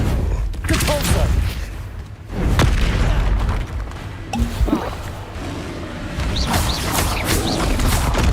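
Depulso force spell cast in Hogwarts Legacy, heavy booming blasts with crackling bursts, repeated several times over game music and effects, loud and close.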